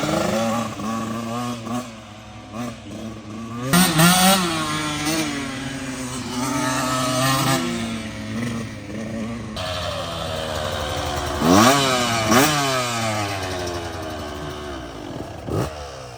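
A 2023 Beta 125 Race Edition two-stroke dirt bike engine revs up and down in loud, rising and falling bursts, with a sharp rev near the middle and the end.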